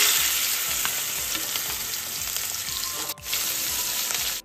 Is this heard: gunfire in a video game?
no